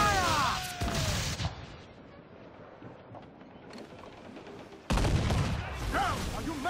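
Ship cannons fire in Assassin's Creed IV Black Flag during a naval battle, with two loud, blasting volleys separated by a quieter rumbling stretch, while crew members shout over the booming.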